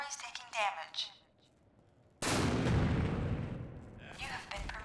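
Gunfire in the Source mod game Empires on a street map, a loud dense burst of shots and rumble that kicks in suddenly and sustains for a couple of seconds, with people talking before and over it.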